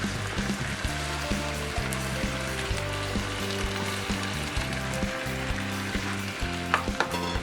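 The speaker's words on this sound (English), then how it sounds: "Cook this until the beef becomes brown in color." Beef and potatoes fry in a pan for nikujaga, giving a lively, continuous sizzle with stirring sounds, heard alongside steady background music.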